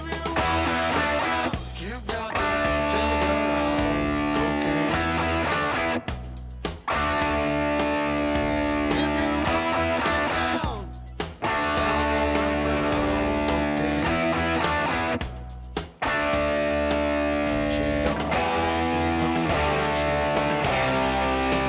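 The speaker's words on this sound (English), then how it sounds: "I'm going to demonstrate how the riffs sound and look." Distorted electric guitar plays the two short riffs of the song, repeated in steady loud phrases with a few brief pauses between passes, with no voice over the playing.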